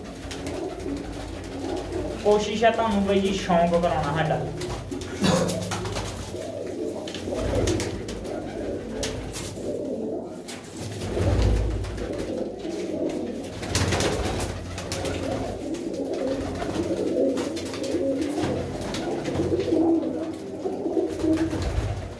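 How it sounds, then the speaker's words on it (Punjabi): Pigeons coo softly at a village loft in Dhamot, their low calls running steadily beneath a voice as he talks over them. "ਜਿਹੜੇ ਉਹ ਕਬੂਤਰ ਨੇ ਜੀ।"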